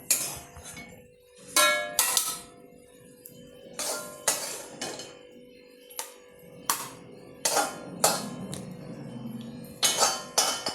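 Metal utensils clink and scrape sharply against a dish again and again in uneven bursts while freshly cooked pumpkin palgova, a milk sweet, is moved into a serving bowl, close and without talk.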